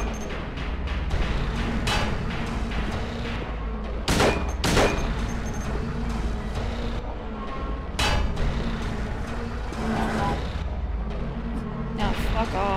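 Gunshots in Silent Hill 2, a run of loud cracking shots over dense, rumbling game noise, with a player's voice talking now and then.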